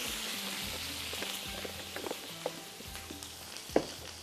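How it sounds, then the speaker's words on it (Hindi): Soya Supreme olive cooking oil sizzles softly on a tawa for chicken angara, a faint steady frying hiss with light clinks and taps from the pan. "इसको थोड़ा सा हमने यहाँ पर फ्राई करना है"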